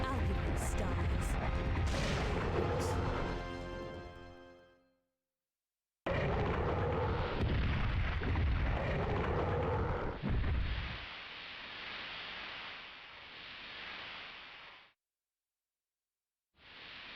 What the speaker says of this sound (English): The missile's coming. There's a missile.